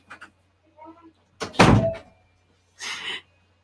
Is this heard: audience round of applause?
no